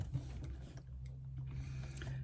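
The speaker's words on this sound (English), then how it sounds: "I'm going to top stitch around the outside using an 1/8 of an inch seam allowance" A sewing machine runs steadily as it top stitches around the outer edge of a small fabric piece at an eighth-inch seam allowance, a continuous close mechanical hum with slight rhythmic variation.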